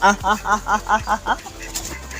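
A rooster clucks in a rapid run of about seven short rhythmic calls close by, followed by quieter rustling and movement.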